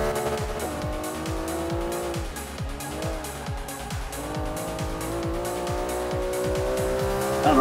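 McLaren supercar racing in Forza 5, its engine revving through rapid gear shifts with a steady loud drone while tires squeal continuously underneath.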